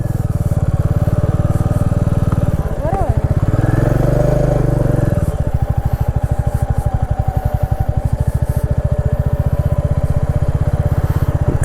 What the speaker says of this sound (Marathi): आणि बीचवर आपण आता बाईक राईड करूया.